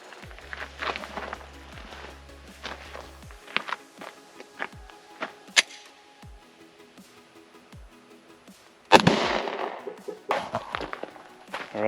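A .40 Smith & Wesson Hornady hollow point round fired at a Safe Life Defense Level 4 ICW armor plate gives one loud, sharp blast about three-quarters through, surrounded by scattered small clicks and handling thumps.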